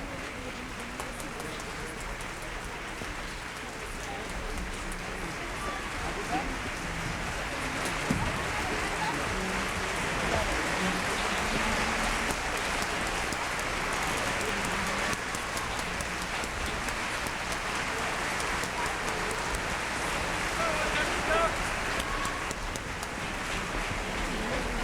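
Sustained audience applause and clapping from a theatre crowd at the close of an act of a Mexican opera premiere, a dense, steady patter of many hands lasting throughout, with some voices mixed in.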